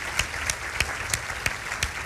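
Audience applause welcoming the director and chair of the Biden Institute at a workshop event, a steady patter of hands with regular sharper claps standing out, moderately loud with no talk over it.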